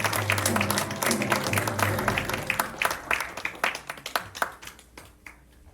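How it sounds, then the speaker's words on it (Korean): Audience clapping at an award ceremony for a book-report contest: dense applause at first that thins into scattered, distinct individual claps as it winds down. "박수 부탁드립니다"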